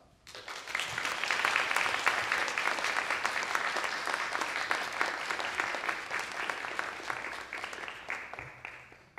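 Sustained applause from a lecture audience fills the room for about nine seconds after a talk on enjoying the World Cup, dense and steady, swelling early and tapering slightly toward the end.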